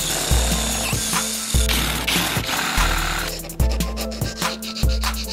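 A drill bit spins inside a threaded nut, boring out its threads while building a homemade Holi balloon shooter; a loud, continuous grinding whine runs throughout, broken by several sharp knocks and rattling bursts as the bit catches.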